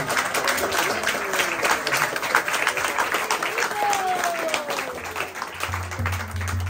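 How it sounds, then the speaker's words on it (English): An audience claps and applauds steadily throughout at a ceremony honoring a young woman, a dense even patter with voices talking over it. "Clap, one more."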